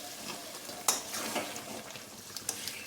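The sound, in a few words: meat being sautéed in a pan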